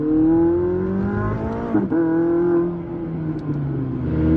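McLaren 600LT in track mode accelerating hard, its engine note climbing steadily with a brief shift dip midway, loud and close throughout with no talking.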